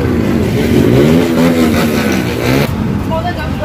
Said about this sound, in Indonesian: Ini dia bus Jaya yang akan menuju ke arah Ponorogo